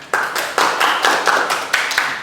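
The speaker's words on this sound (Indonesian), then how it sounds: "Tepuk tangan dulu dong." Hand clapping in a classroom during a microteaching session, a few people clapping close by in distinct, fairly loud bursts with short pauses between them.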